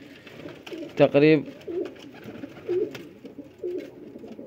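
Pigeons coo in a domestic loft setting, with one loud close coo burst and several softer repeated coos, mixed with someone speaking.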